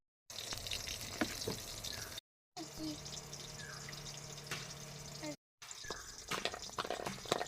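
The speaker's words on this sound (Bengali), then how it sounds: "ওইদিকে বেগুন ভাজা বসিয়ে" Eggplant (brinjal) slices sizzle and crackle in a frying pan, a continuous close-up spatter broken by a few short cuts, with voices in the background.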